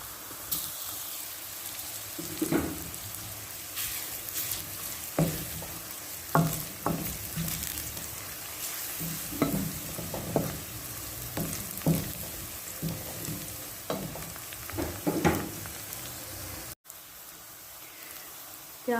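Onions turning golden in a pan with garlic added for a Pakistani keema dish, a steady sizzle and fry broken by regular scraping stirs, close and moderately loud, no talking.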